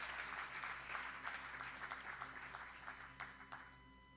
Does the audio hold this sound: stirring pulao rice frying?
no